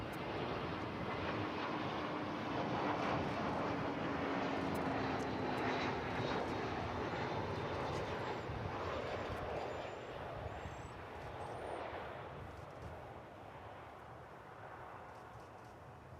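American Airlines airliner in Medal of Honor tribute livery at Dallas Fort Worth Airport, a sustained distant jet roar that holds steady and slowly eases off, with faint chirps high above.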